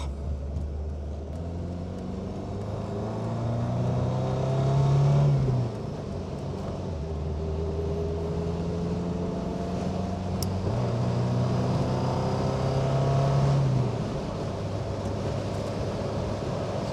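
Triumph Dolomite Sprint with its 2-litre twin-carburettor engine on the road in fourth with overdrive, a steady in-cabin drone that swells and eases with the revs, continuous and moderately loud.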